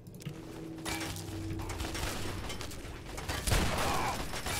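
Gunfire and mechanical weapon clatter in the video game Fallout 3, a dense burst-like rattle with a louder impact near the end.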